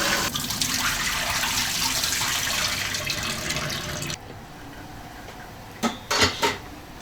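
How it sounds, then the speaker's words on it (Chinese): Tap water runs steadily into a kitchen sink while beef balls are rinsed, with dishes clinking; after about four seconds the flow stops, leaving a few light knocks and rattles. "我把牛肉丸洗一下。"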